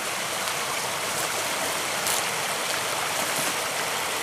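Stream water rushes steadily at an outdoor swimming hole, a dense, continuous broadband wash with no pauses.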